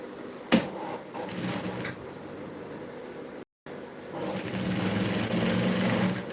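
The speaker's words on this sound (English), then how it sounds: "And now I'll start sewing." A sewing machine gives a few short bursts and clicks, then settles into a continuous high motor whir that grows slightly louder toward the end.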